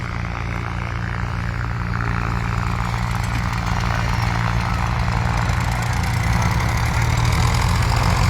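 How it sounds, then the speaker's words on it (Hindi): Tractors and JCB machines running at a land clearing site near Baberа in Bansur, a steady continuous engine drone with low rumble that stays loud throughout. "इसमें चलते हुए ट्रैक्टर दिखेंगे आपको, जेसीबी मशीनें दिखेंगी।"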